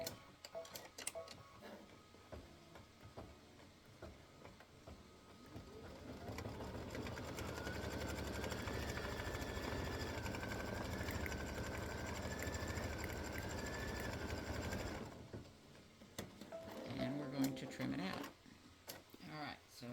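An embroidery machine stitching an applique Valentine bear design runs for about eight seconds in a fast, steady mechanical whir with a rising tone, between quieter stretches of clicks and handling, while a person talks nearby.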